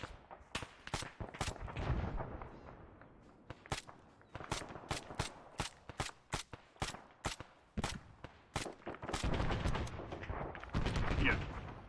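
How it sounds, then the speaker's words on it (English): Repeated sharp gunshots and heavy explosive blasts from indirect fire in the military video game Arma 3, loud and irregular, some close and some more distant, with bursts of rumbling fire between the shots. "That indirect fire is ours or theirs?"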